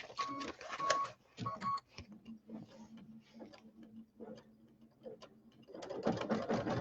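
Domestic sewing machine stitching a quilt block, running in bursts of quick rhythmic ticking and whirring at moderate level, with a steadier low hum through the middle before the stitching picks up again.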